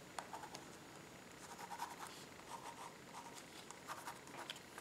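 A purple coloured pencil scratches across journal paper in quick close strokes, a soft irregular scribbling texture with brief pauses and no voice.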